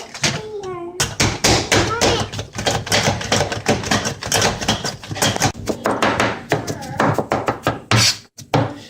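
Rapid, sharp repeated chopping clacks as water chestnuts are diced in a plunger-style food chopper, loud and close in quick uneven bursts, with a voice talking over the top.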